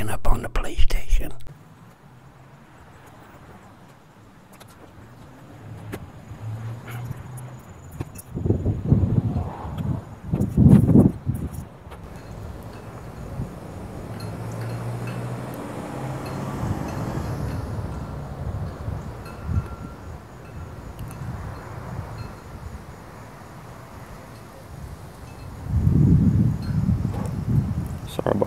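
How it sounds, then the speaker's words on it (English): Wind buffets an outdoor microphone on a gusty day, producing low rumbling bursts that swell and fade, strongest in a few loud gusts, while a person talks quietly underneath. "Sorry about the wind, guys."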